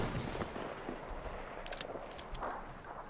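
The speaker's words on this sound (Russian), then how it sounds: "Нифига себе выстрел, блин." A rifle shot in the video game Metro Exodus, heard as a sharp crack with rattling, echoing report that fades over a few seconds in an outdoor forest setting, no talking.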